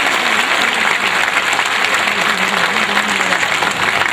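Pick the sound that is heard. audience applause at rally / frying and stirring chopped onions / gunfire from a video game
audience applause at rally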